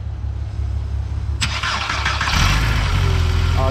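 A VR6 wagon's engine cranks and catches, then settles into a steady low idle that grows slightly louder, close by with no talking.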